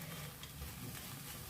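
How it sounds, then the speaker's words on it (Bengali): Beetroot fry is stirred in a pan with fried peanuts and chopped coriander, giving a brief, quiet, steady scraping sizzle with no voices. "একটু বাদাম ভাজা আর ধনেপাতা কুচি দিয়ে নাড়াচাড়া করে নামিয়ে নেব।"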